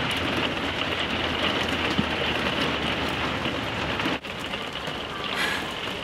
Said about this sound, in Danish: nu er det begyndt at regne